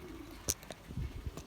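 Belgian racing pigeons cooing in a loft, soft low coos and a few sharp wing or claw taps, close and quiet, with no talking.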